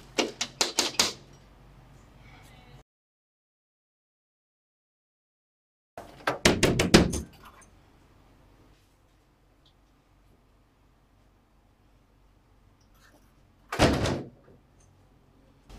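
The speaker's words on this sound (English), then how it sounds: "Why are you banging on my door?" Someone bangs on a house door in a Nigerian drama, three separate bursts of rapid, sharp knocks spaced out by long stretches of near silence, loud and close.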